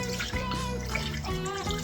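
About one and a half cups of water pour into a crock pot, a close gurgling, splashing stream with bubbly liquid tones lasting a couple of seconds, no voices.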